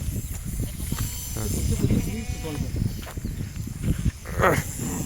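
Pregnant Kathiawadi goats bleating in short, repeated calls close by, mixed with shuffling movement while people talk over them.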